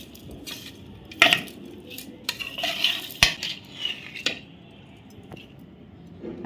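Soaked sabudana being mixed with salt and a spoonful of sugar, a spoon scraping and clinking against the bowl in a few sharp taps amid soft, steady stirring.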